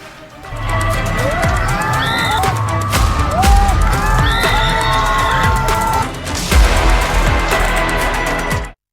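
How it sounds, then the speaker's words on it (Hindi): A crowd of thousands cheers, whoops and shouts at an outdoor wrestling (kushti) bout in Bihar where women wrestlers compete, a loud continuous roar with high shrill cries rising above it. "पहलवानी देखने के लिए इकट्ठा हुई हजारों की भीड़"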